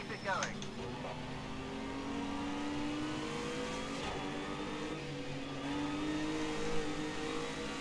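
Ginetta race car engines in the video game Project Cars 2, a steady near engine drone with shifting pitch as cars run close together, and a voice talks over it throughout.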